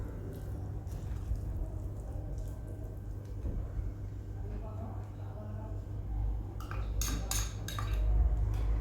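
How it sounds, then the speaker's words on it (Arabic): A spatula stirs ingredients for flourless lentil bread in a bowl, with quiet scraping and light clinks of utensil on dish, ending in a few sharper clatters near the close. "غادي نخلط هاد العناصر، نخلطهم بالسباتور."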